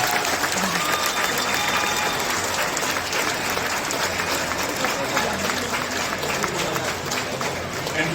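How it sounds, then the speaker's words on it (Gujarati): Sustained applause from a large audience giving a standing ovation at a school alumni reunion ceremony, dense steady clapping filling the hall without a break and a faint murmur of voices underneath. "Standing ovation."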